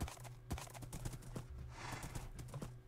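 Horse hooves clip-clopping in the Minecraft video game, a quick run of soft, fairly faint hoof clops in an uneven rhythm with no talk.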